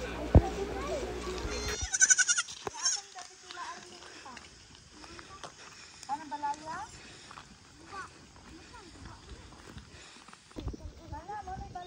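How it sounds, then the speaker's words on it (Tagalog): A goat bleats a few times amid farmyard noise, with people talking nearby and some hoof-like clopping. "Tingnan niyo yung kambing namin"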